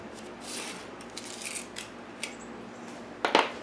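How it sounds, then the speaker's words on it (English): Scissors cut terrain-building material for a tabletop wargame table, giving a few faint scraping snips and then a sharper, louder crunching cut near the end in a quiet room. "So now with that, we're going to go ahead and cut this in half."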